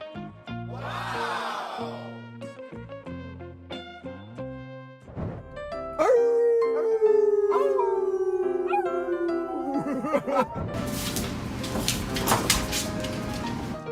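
A dog lets out a long, loud howl that slides slowly downward in pitch for several seconds, set among other household and background sounds, with no talking.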